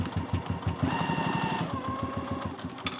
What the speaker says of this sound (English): we're going to take this to our machine and just sew right along this edge using a 1/4 inch seam allowance